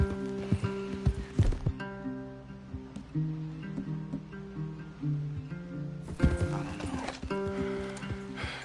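Horses whinny and snort over clip-clopping hooves, with a low musical drone underneath; Red Dead Redemption 2 game sound effects, fairly close.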